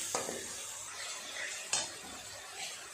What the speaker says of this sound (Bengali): যতক্ষণ না তেল ছাড়ে ততক্ষণ এইভাবে সুন্দর করে মশলাটাকে কষাতে হবে